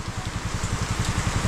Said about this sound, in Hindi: देखो यार कितना बारिश हो रहा है तेज